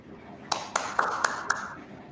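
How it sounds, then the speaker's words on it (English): A small audience at a scientific conference gives a short burst of scattered clapping, a handful of distinct sharp claps over about a second, fairly faint. "let's have a clap"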